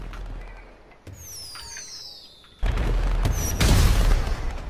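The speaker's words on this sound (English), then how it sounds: "fireworks in the daytime" Fireworks going off in GTA V Online during daytime: whistling rising streaks followed by a heavy burst of booming, crackling explosions that grow louder and denser toward the end, no talk over them.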